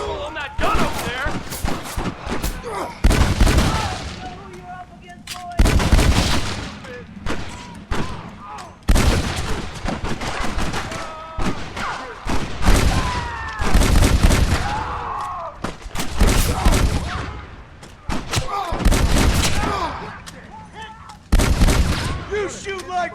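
Rapid gunfire bursts from a Gatling gun in the Western video game Red Dead Redemption, loud and repeated in clustered volleys across the span, mixed with other shots and game sounds, with voices speaking in between.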